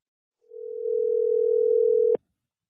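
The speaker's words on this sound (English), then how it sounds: "Get my man on the phone." A telephone dial tone sounds while a call is being placed. It is a single steady hum, close and clear, lasting under two seconds before it cuts off with a click. No one talks.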